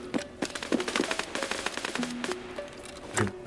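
Rapid bursts of automatic gunfire in Escape from Tarkov, loud and close, with sharp repeated shots spread across the moment and some quieter background tones.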